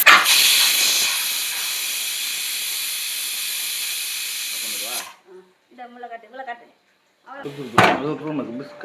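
A pressure cooker lets off a loud, steady hiss of steam for about five seconds before it stops abruptly. People then talk in the quiet that follows.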